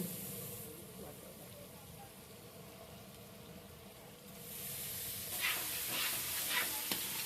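Katla fish curry masala with slit green chillies sizzles steadily as it is sautéed and stirred in a pan, with scraping strokes and a louder, brighter frying hiss in the latter half.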